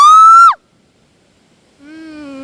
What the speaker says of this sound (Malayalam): നമുക്ക് ഇവിടെ നിന്ന് കൂക്കി നോക്കിയാലോ?